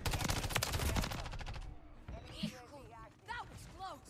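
Gunfire in Modern Warfare 3 on the Shipment map, a dense burst of rapid automatic shots at the start that gives way to scattered game effects, with people talking.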